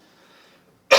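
A single short, sharp human cough bursting out loud and close at the very end after near silence.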